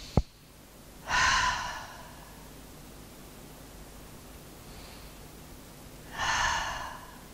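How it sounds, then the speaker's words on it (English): Two slow, deep breaths during a gentle yin yoga session for lower back pain, each a soft breathy rush close to the mic, separated by a long quiet pause, with a faint click at the start. "Take 2 deep breaths."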